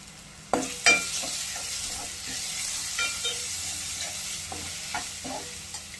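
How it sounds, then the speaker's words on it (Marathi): Turmeric, goda masala and Agri masala spices sautéing in a pan for a spicy dry crab masala, with a steady sizzle under several sharp scrapes and stirs of a spoon. "आपल्याला मसाले परतून घ्यायचे।"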